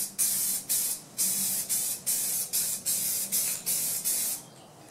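A paint spray gun lays down a heavier second coat of blue on a Suburban headliner, hissing in about ten short, evenly spaced bursts close by with brief gaps between.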